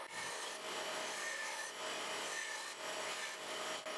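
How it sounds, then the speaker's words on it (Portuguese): A disc sander grinds down small wooden rings cut from scrap, shaping them into axle spacers in a woodworking shop; a steady, close abrasive rasping runs throughout with slight pulses as the pieces are pressed against the disc. "usando minha lixadeira de disco, pude desgastá-los até o final"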